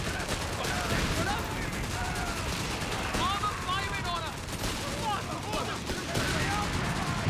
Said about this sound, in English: Contractor artillery again getting some solid hits